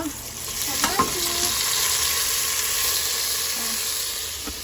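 Chicken pieces hit a hot pot for sinigang na manok, setting off a loud, steady frying sizzle with a couple of brief clinks near the start.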